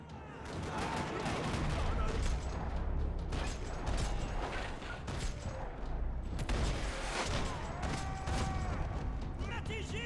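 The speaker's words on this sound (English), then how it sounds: "Another parking lot rattling with gunfire." Continuous dense gunfire from the video game Max Payne 3 crackles and rattles throughout, with bursts and mechanical clatter, loud and busy, while a voice talks intermittently underneath.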